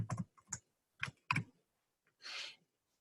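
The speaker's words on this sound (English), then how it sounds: "So I'm going to type that in." A section number is typed into an online roster form on a computer keyboard: a few quick clusters of soft key clicks with short pauses, quiet and close, ending in a brief breathy rustle.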